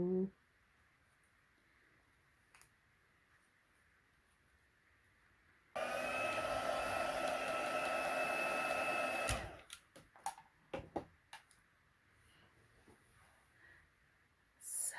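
A heat tool blows hot air for heat embossing a card sentiment, a loud steady whoosh lasting a few seconds that begins and stops abruptly, with quiet handling sounds around it.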